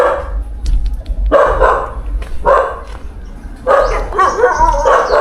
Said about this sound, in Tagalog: Oh, may aso.